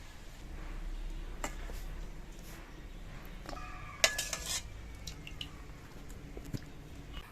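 Fish head curry is ladled from a pot into a serving bowl in a home kitchen, giving a few faint metallic clinks and a soft wet pour, with a sharper clink near the middle and quiet scrapes afterward.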